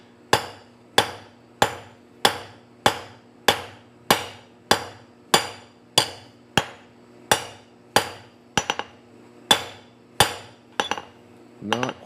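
A blacksmith's hammer strikes hot metal on an anvil in about seventeen sharp, evenly spaced blows, ringing close and loud. A few quick double taps come near the end.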